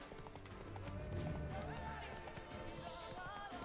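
Video game hoofbeats from the horse Roach galloping, a steady clip-clop rhythm close by over music and game sounds, with faint background talk.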